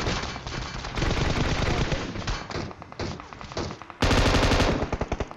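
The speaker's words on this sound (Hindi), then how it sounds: "अब सबसे पहले सामने की स्क्वाड फायर कर रही थी" An enemy squad fires automatic weapons in PUBG Mobile, with sustained loud machine-gun bursts and thumping shots, a sharp, louder volley near the end, with no voices.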